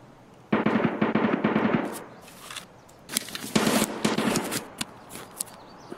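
Gunfire in a shooter video game: rapid automatic bursts of shots in two main volleys, loud and close, followed by a few scattered single shots, with no talking.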